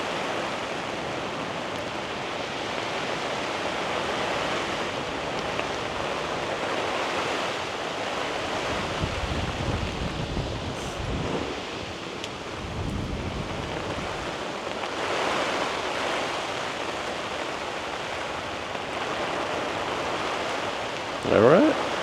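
Steady rushing wind and rain noise buffet an Onyx 270 awning in high wind, a continuous broadband roar that swells and eases, with faint talk at moments.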